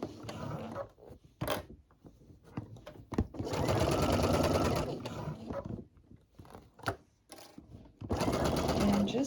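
A sewing machine stitches a short seam in bursts of rapid mechanical whirring, stopping and starting, while a person talks between runs and pins are pulled out.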